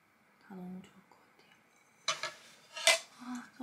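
Lightweight, unbreakable plates and bowls being handled, giving several bright clinks and clatters, one sharp knock standing out, with a quiet voice murmuring briefly before them.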